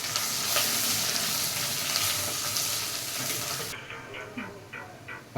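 Garlic, onion and sliced ginger frying in a pan for a homemade seer fish curry, a steady loud sizzle with stirring that drops abruptly quieter near the end, leaving softer crackles and scraping.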